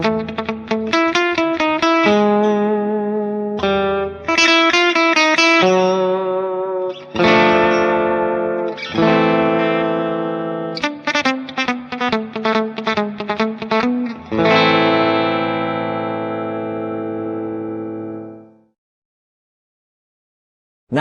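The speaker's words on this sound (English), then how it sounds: "For this we're going to be using quite a lot of the Accutronics reverb with the dwell switch set to high drive." Electric guitar played through a VOX AC30CC amp with heavy Accutronics spring reverb, dwell switch on high drive, ringing out in loud strummed chords and picked phrases, ending on a long sustained chord that decays into silence.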